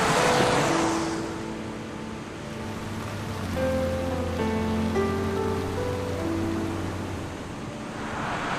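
Heavy rain in an animated film makes a steady, loud hiss that swells at the start and end, with a soft musical score of sustained tones layered over it in the middle.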